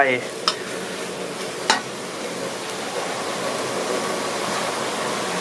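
Onion drops into a hot pan for a spicy Thai pork basil stir-fry, sizzling and frying while being stirred, with a couple of sharp scraping clacks at the start, then steady close sizzle alone.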